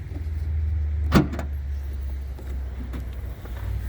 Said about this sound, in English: if we open up the hatch